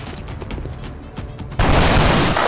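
Gunfire from a soldier's weapon in the XCOM: Enemy Within PC game, a loud sustained burst erupting after a quieter stretch of ambient game sound and lasting to the end.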